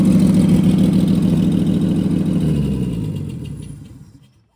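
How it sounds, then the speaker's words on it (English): A 1970 GMC truck engine runs at a steady high idle of around 1,000 to 1,200 RPM, loud and close, with a low, even rumble that gradually fades out toward the end. "Got to fire it up now, let it run for about 10 minutes, kind of a high idle"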